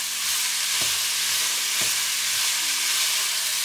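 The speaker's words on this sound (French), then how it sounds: "On va laisser revenir environ 3 à 5 minutes. À feu assez fort." Food browning in a pan over fairly high heat gives a steady, dense sizzle throughout, with a couple of soft stirring scrapes and no voices.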